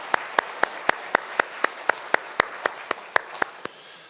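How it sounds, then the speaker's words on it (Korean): Church congregation clapping in praise during a Sunday worship service, about fifteen evenly spaced claps in a steady rhythm, clear and fairly close, without talk. "우리도 하나님께 영광의 박수 올려드리겠습니다."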